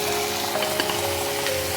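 Fish bones spiced with turmeric frying in a pan as water is added, giving a steady close sizzle and hiss for a couple of seconds with no voices.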